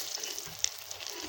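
Fish fries in hot oil at an outdoor winter picnic, a faint, steady crackling sizzle with small pops close by.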